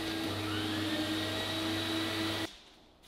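A Record Power Camvac dust extractor running in a workshop gives off a steady, loud whooshing roar with a high motor whine. It stops abruptly near the end, and the noise drops away into near silence.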